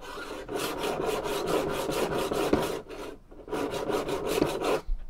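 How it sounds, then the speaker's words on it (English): A double-edged sword blade is sharpened by hand on abrasive grits on a table, with quick repeated back-and-forth rasping strokes in a steady rhythm, loud and near, with one short pause partway through. "There probably are other ways to sharpen, but if you're doing it like this, on a table, definitely wear gloves."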